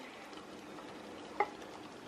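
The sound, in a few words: stirring Parmesan cheese into keto chicken dish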